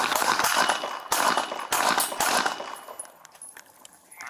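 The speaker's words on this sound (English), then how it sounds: "Gunfire." Gunfire during a Phoenix police shooting involving a fleeing stolen-car suspect: a rapid series of sharp, loud bangs in the first few seconds, then fainter clatter and background noise.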